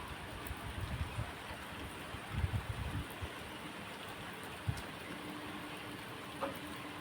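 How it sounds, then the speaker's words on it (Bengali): Steady rain falls on a lake, a dense, even hiss of drops across the water surface with a few louder low splashes and thumps, fairly faint and ambient, with no voices. "বেশ ভালোই বৃষ্টি হচ্ছে, ওই জলটাকে দেখলে মনে হয়"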